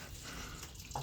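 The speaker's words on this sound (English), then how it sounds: "Right now, I have my first floor bathroom and first floor kitchen sink on." Faint, steady hiss of taps running at once from a first-floor kitchen sink and bathroom in a house, heard from a distance with a small splash near the end.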